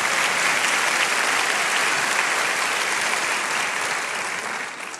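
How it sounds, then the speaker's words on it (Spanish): A church congregation applauds during a sermon on forgiveness: a thick, steady wash of many hands clapping, sustained and even, easing off slightly at the very end. "déle ese fuerte aplauso a Dios."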